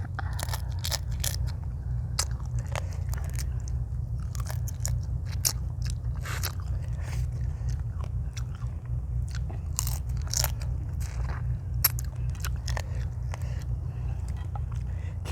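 Someone bites and gnaws through spicy fresh blue crab papaya salad, with repeated close, sharp crunches and cracking shell sounds over a steady low background hum.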